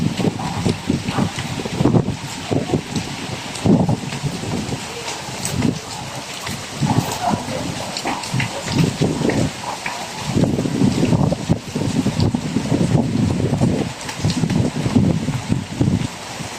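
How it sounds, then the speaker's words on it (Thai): Gusty wind sweeps across a home garden of potted roses and basil plants during rain, a loud, steady buffeting rush with rustling swells that rise and fall throughout. "ลมมาค่ะ"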